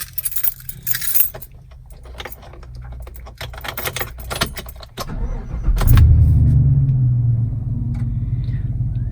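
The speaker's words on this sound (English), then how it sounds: "Truck starts up, no issues, no error messages." Keys jangle and click in the ignition of a 2016 Chevy Silverado LT pickup, then the engine cranks and catches with a loud rumble that settles into a steady close idle.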